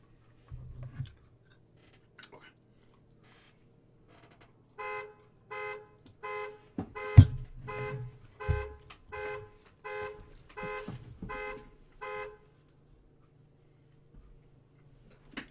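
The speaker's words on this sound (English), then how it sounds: "I just set off my own car alarm with my ass cheek." A car alarm sounds nearby in a regular run of loud pulsed tones lasting several seconds, preceded and broken up by scattered thumps and rustling.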